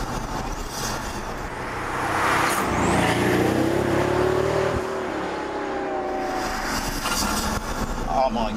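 Loud, close engine roar of a 720bhp Pagani Huayra supercar heard through an open window, swelling as the car accelerates and then holding a sustained, rasping drone for several seconds.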